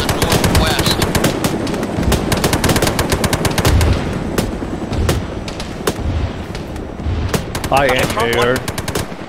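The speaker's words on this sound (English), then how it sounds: "Looks like we're taking fire from the northwest." Heavy automatic gunfire in the Arma 3 military video game during a jungle firefight, dense rapid bursts and booming shots, loud and continuous, with radio-style voices speaking briefly over the shooting.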